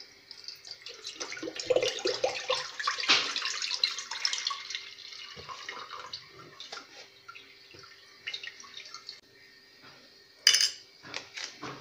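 Milk being poured into a cooking pot for homemade yogurt, a steady liquid splashing and gurgling that tapers off, followed by a few scattered clinks of kitchenware and one sharp knock.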